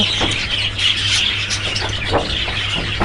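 Java sparrows in a breeding colony aviary, a continuous chorus of thin chirps and tweets over a steady low hum, moderately loud and close.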